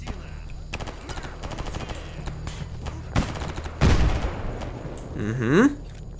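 Gunfire and a grenade blast in the video game Escape From Pripyat: sparse rattling shots at a distance, then a sharp close bang, with a rising whine right after, under faint background noise.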